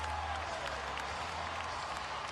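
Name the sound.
crowd cheering at a basketball game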